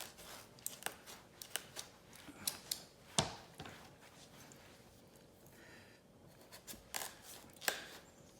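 A knife saws and chops around the top of a hard turkey squash, producing a series of quiet, irregular crunchy cracks and scraping cuts with short pauses between strokes.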